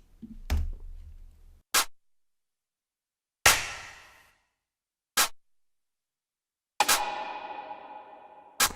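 Separate drum hits, each a sharp layered snare and clap, some dry and short, others with long ringing tails, spaced apart by silence.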